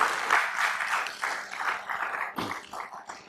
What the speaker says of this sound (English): That is something to clap for.